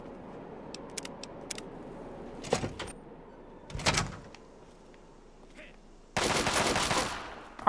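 Enemy gunfire in Fallout 3's Operation: Anchorage: scattered sharp shots crack out at intervals, a few heavier bursts land in between, and a dense, sustained volley of rapid fire closes it out, moderately loud against a quiet backdrop.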